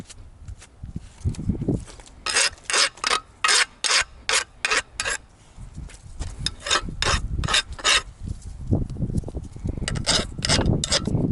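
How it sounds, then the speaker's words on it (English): A hand file scrapes across the cut end of a Kubota KX121-3 mini excavator thumb pin to break sharp edges. Close, loud, rhythmic back-and-forth strokes come in quick regular bursts, then looser rasping. "I want to go ahead and hit this with a file to break any sharp corners"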